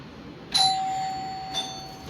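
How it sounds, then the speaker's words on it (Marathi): A home doorbell rings twice with an electronic chime, a long clear tone followed by a shorter second one, loud and close in a quiet room with no talking. "इतक्या वेळ बेल वाजवते म्हणजे कोण असणार आहे?"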